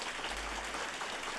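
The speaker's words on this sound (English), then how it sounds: "Give her a round of applause" At a fall faculty and staff assembly, the room breaks into brief, even applause, a soft, continuous patter of many hands with a low hum beneath.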